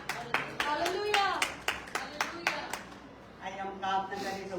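A church congregation at a Hindi service claps in steady, rhythmic unison, loud sharp claps under a voice speaking over them, the clapping then fading as talk continues.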